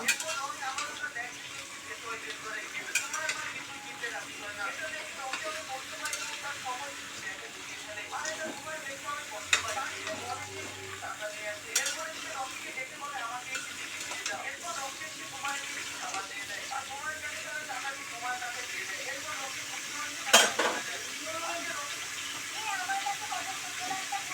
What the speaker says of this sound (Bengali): এবার ভালো করে নেড়ে চেড়ে সবজিগুলো আমি ভেজে নেব